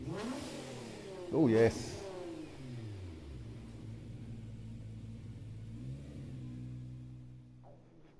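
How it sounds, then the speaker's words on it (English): A Nismo car's engine in Gran Turismo 7 gives one sharp, loud rev around the second mark, then settles into a low, steady idle rumble, with a man's brief exclamation over it. "Go on, rev it up."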